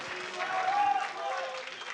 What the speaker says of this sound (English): Once again, a big round of applause for OldBoy as he's going to the quarterfinals.